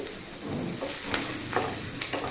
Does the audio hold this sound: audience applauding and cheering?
no